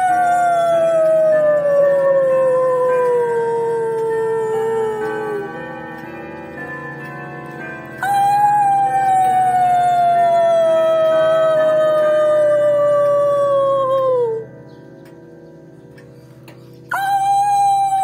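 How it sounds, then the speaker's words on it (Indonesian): A dog howls in long, loud, drawn-out wails that slide slowly downward, two sustained howls separated by a brief gap, with a faint steady ticking underneath and a third howl starting at the end. "Kudukku berdiri manakala terdengar suara lolongan anjing"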